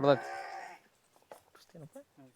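A sheep bleats loudly and close at the start with one sustained wavering call, then people talk quietly nearby out among shepherds and their flock.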